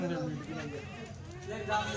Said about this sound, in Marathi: मेंढ्या पण बघा दोन मेंढ्या मेंढ्याचं कोकरू बघा